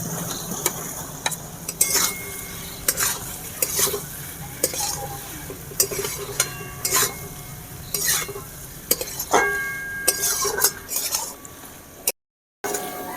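Pre-boiled fried potatoes are stirred into a sizzling masala of spices, chili powder and chopped tomato for Kashmiri aloo dum. A spoon scrapes and clinks against the pan in repeated strokes over a soft, continuous sizzle, with no talking.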